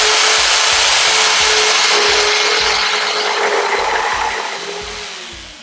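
A saw cuts steadily through a board, its broadband rasping loud and continuous for several seconds before slowly fading near the end.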